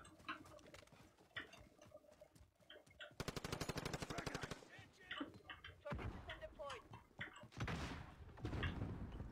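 Gunfire in a shooter video game, including sniper shots: a long rapid burst of automatic fire, then several loud separate shots and bursts, heard alongside players' voices.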